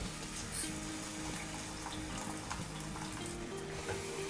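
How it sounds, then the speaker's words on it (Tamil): Tamarind water being poured into a simmering bitter gourd curry, a steady, fairly quiet liquid pour and gentle sizzle continuing without talk. "இப்போ அந்த புளி கரைசல் தண்ணியை குழம்புல சேர்த்துடலாம்."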